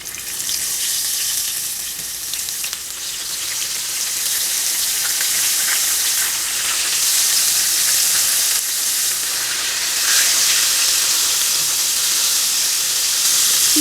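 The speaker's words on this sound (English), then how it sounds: "I'm just going to continue adding this in so that it can fry" Seasoned fish pieces frying in hot oil for a Guyanese fish curry, a loud, continuous close-up sizzle and hiss that swells slightly partway through, with no talking.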